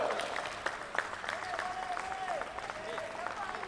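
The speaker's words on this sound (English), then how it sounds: "Much to the applause of their teammates and the onlookers." Teammates and onlookers applaud at a secondary-school sepak takraw match. The clapping is fairly soft and scattered, and a commentator's voice runs over it along with a faint tonal whistle-like line.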